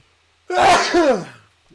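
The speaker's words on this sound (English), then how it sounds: "I'm sorry, I had to sneeze" A single person's sneeze bursts out loud and close, lasting about a second, then fades to silence with no talk over it.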